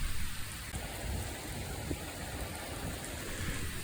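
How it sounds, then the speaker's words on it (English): Steady rain falls hard during a storm on offroad trails in central Europe, a dense, even hiss that carries on unbroken throughout, with no voices. "When rain was fall from the sky,"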